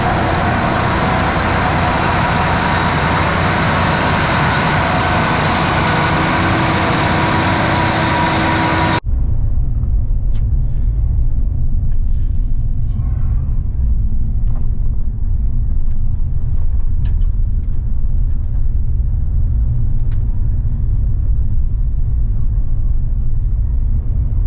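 A vehicle drives off the road into a dry farm field: a bright, broad cab or road noise gives way abruptly to a steady low engine rumble, with faint clicks and wind over the lower drone.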